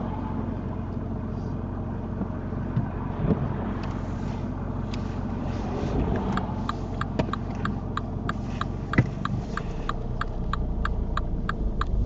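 A car pulls away during a UK mock driving test, a low steady engine rumble from inside the cabin with wind noise and a regular ticking indicator in the later part.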